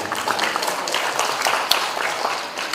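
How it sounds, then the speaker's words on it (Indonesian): Audience at a taxation seminar applauding, a sustained wash of many hands clapping at moderate loudness with no talk over it. "Bapak Dr. Taufan Maulamin, boleh tepuk tangan."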